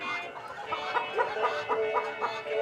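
Hens clucking on a farm, with several overlapping bird calls in a busy, steady flock chorus at close to moderate distance and no talk.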